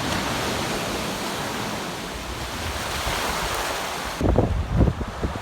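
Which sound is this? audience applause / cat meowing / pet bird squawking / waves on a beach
waves on a beach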